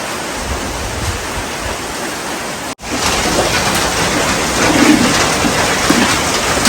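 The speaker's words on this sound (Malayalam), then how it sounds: "നല്ല മഴ." Heavy rain pours down in a dense, steady hiss and rush that fills the scene, briefly dropping out for an instant before returning slightly louder.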